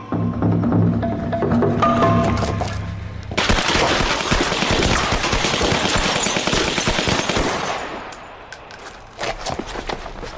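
Dense, rapid bursts of automatic gunfire hammer at a Renault 5 stopped at a stop sign in the Basque Country at night, loud and sustained for several seconds before tapering off, with a lower rumble beneath.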